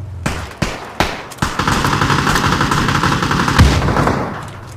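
Rapid bursts of automatic gunfire from shooting in PUBG Battlegrounds, with a few separate single shots first and then a sustained rattling volley lasting several seconds, loud and close.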